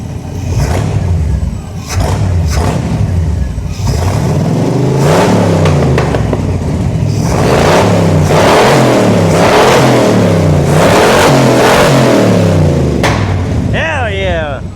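A small-block Chevrolet engine in a rat rod revs up and down, loud and close, with rising and falling engine pitch in repeated surges and people talking briefly near the end.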